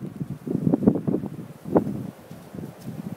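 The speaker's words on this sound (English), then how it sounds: "Here comes a big gust." Blizzard wind during an Arctic storm, a rough gusting rush that swells and fades in uneven bursts, fairly faint and close to the microphone.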